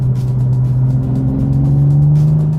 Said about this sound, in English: So, exhaust note gets a little bit louder.